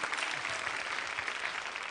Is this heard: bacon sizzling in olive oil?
no